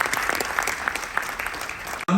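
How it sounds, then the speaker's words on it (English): Steady applause from an audience aboard the Carnival Legend cruise ship during a veterans tribute fills the clip, dense clapping at an even level before cutting off abruptly at the end. "How about another round of applause for our military families?"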